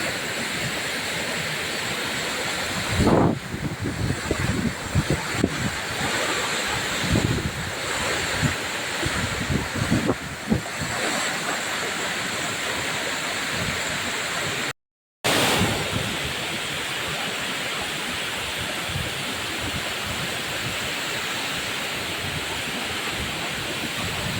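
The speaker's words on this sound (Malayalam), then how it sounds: "വെള്ളച്ചാട്ടത്തിന് ഈ അടുത്തെത്താണ്." The Punnayar waterfall at Kanjikuzhi in Idukki, Kerala, gives a constant broad roar of rushing water, heard from close by, with a few dull knocks and wind buffets and no voices.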